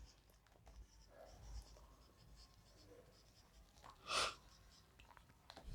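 Pen writing by hand on paper, a quiet scratchy stroking with faint rustles and a brief louder rub partway through, no talking.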